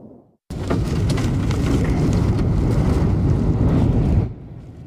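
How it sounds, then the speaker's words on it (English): Loud wind from an EF-1 tornado roars and buffets across the microphone in a sudden, sustained rush, then cuts off abruptly after a few seconds. "You could hear the roar of the wind."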